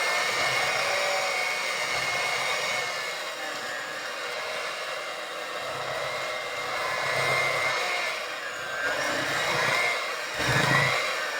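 An electric mixer whirs continuously through oatmeal raisin cookie dough, a steady high-pitched motor drone that wavers slightly in pitch as the load changes, close and fairly loud, with a brief deeper bump near the end.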